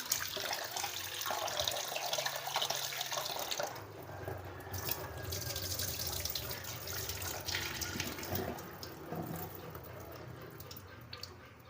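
Water splashes and runs steadily as soaked sabudana (sago pearls) is rinsed in a bowl, a continuous close wash-and-trickle sound with a faint sporadic drip near the end.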